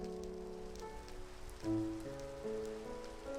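Rain falls in the Minecraft video game, a soft steady patter under sustained background music tones, quiet and even throughout.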